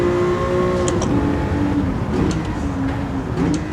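A Nissan Fairlady Z race car engine in Gran Turismo 7 roars steadily at high revs, with brief shifts in pitch from downshifts and quick upshifts, a loud, continuous mechanical drone.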